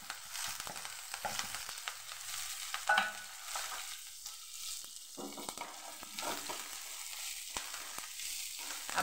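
Chana dal, urad dal, ginger, chillies and curry leaves are sautéed in hot oil for tempering idli, giving a soft sizzle with light stirring scrapes of a spoon in the pan, quiet and close.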